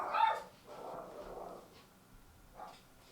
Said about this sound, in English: Apologize for the dogs in the background.